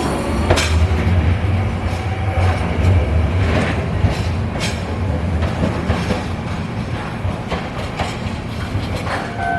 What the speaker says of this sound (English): I'm gonna watch the train leave.